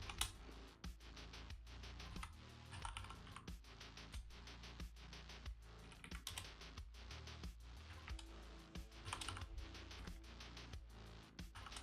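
Fast, steady keystrokes clatter on a computer keyboard, dozens of quiet close clicks in an uneven rhythm with no voices over them.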